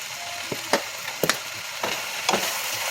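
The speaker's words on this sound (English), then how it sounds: "Saute this down." Thyme and black pepper sautéing in a pan, heard as a steady, moderate sizzle with occasional scraping and tapping from stirring.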